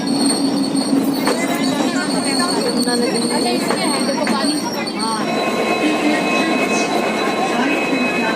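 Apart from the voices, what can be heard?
train travelling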